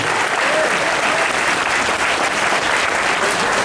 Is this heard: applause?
yes